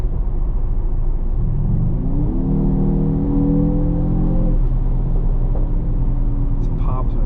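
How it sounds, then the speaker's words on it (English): A 2024 Mercedes-AMG GT53 4-door's engine climbs steadily in pitch as the car accelerates from inside the cabin, then settles, with a few sharp exhaust crackles near the end; people talk over the loud drone. "These pops are so crazy."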